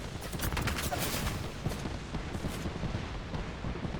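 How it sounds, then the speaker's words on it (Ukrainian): Rapid bursts of gunfire crackle continuously, dense and loud, in a firefight in the game Apex Legends, with no voices over it. "Мені з двох сторін стріляють уже."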